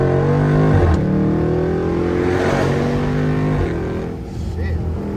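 A 500-horsepower SRT Jeep in sport mode accelerates hard on a rainy road, heard from inside the cabin as a loud, rising engine drone that eases off near the end, with someone talking over it.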